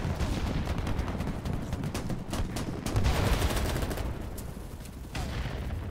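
Rapid gunfire in the online shooter BattleBit Remastered, dense repeated shots in quick bursts with louder volleys midway, crowded and continuous throughout.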